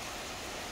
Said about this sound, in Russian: а дождик холодный.